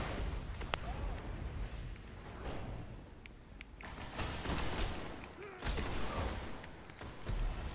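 Heavy machine gun fire crackles through a Destiny Iron Banner match, with dense rattling bursts and booming impacts piling up for several seconds in a loud, chaotic mix.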